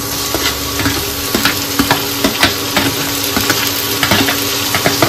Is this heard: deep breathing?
no